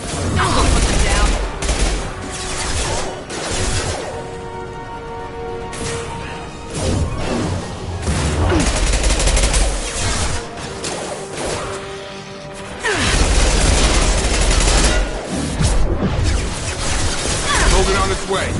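Video game firefight in a space setting: bursts of rapid gunfire and crashing impacts fill the clip, loud and dense throughout, with a quieter lull in the middle and voices mixed in among the shots.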